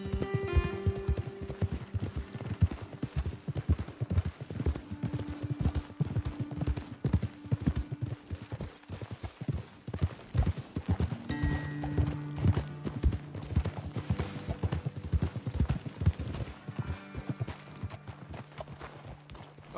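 Horses' hooves clip-clop steadily over ground in the Western video game Red Dead Redemption 2, a continuous close rhythmic patter with a faint whinny and low background music underneath, no talking.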